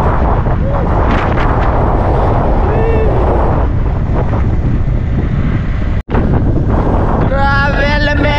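Cold outdoor wind gusts blowing hard across the microphone at a provincial fiesta in Galagka, a loud continuous roaring buffet with a brief dropout, faint distant voices underneath.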